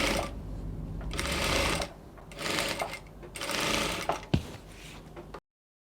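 A sewing machine pipes bias binding around a wrap dress neckline, running in three steady stitching stretches with brief stops between them and a sharp click near the end, close up and without talking.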